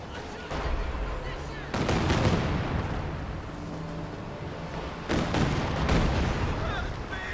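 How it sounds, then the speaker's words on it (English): Katyusha rocket artillery bombarding an area in a World War II strategy video game, heard as a continuous roar of rumbling blasts with sharp bursts near 1.7 and 5.1 seconds, loud, alongside background battle noise and faint gunfire. "Katyusha's bombarding this area."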